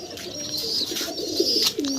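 A dove chick at a pigeon farm makes a few close, soft cooing and whistling calls over quiet farm background, with no talking.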